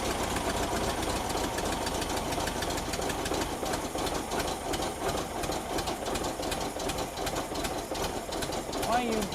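The engine of a classic 1963 VW Single Cab being revived knocks and idles unevenly with a rapid mechanical clatter, running close and steady throughout while a voice talks over it.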